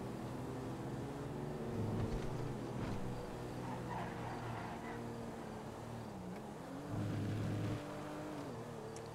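Car engine in the game GTA, a steady drone with shifting engine tones that swell in pitch twice as the car accelerates, continuous and fairly close throughout.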